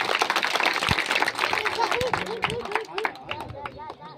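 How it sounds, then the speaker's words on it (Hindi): An audience at the inauguration of a free coaching centre claps continuously in a dense, lively patter, with crowd chatter and voices mixed in throughout. "मैं रिक्वेस्ट करना चाहूंगा जोरदार तालियों से स्वागत की जाए।"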